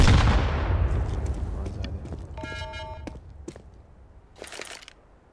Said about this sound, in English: Throwing a grenade.